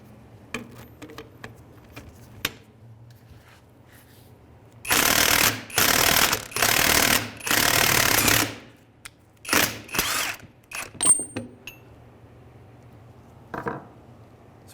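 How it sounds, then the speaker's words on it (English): Ball joint press forcing a lower ball joint out of the steering knuckle on a 2003-2011 Honda Element, heard as a run of loud, harsh grinding bursts of about a second each, then shorter sharp bursts and a few clicks in a quiet garage. "We're going to press here, push our ball joint out of the knuckle."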